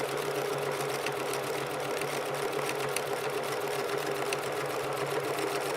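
A sewing machine stitches a circular seam with a steady, fast mechanical hum and rapid needle clatter, close and continuous, with no talk.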